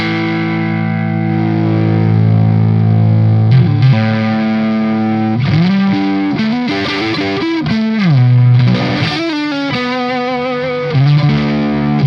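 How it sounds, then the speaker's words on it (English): Distorted electric guitar through a cranked Marshall amplifier rings out, a sustained crunchy chord followed by aggressive riffing with bending notes, loud and gritty. "So 1987, it's hard hitting, really like aggressive, the, you know, Marshall sound that we all love"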